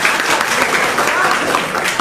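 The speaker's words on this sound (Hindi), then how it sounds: "ताली बजाइए इसके लिए आप लोग।" An audience at a school event claps steadily and fairly loudly for about two seconds, a dense, even patter of many hands with no voices standing out.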